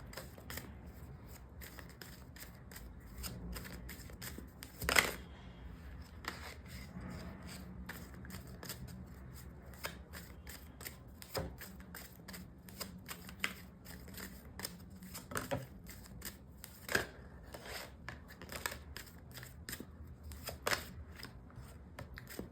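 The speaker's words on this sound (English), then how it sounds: "let's pull out a few cards and see what comes up" Tarot cards are pulled from a deck and handled, with soft irregular shuffling, slapping and flicking close by, one sharper knock early on, and no voices.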